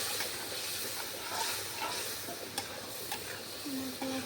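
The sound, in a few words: cumin, garlic and ginger paste sizzling in a pan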